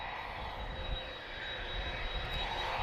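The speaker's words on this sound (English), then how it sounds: "We have another A330 on the move." Airbus A330 engines whine and rumble steadily as TP223 taxis at Lisbon Airport, a constant mid-distance roar with a thin high tone and no talking.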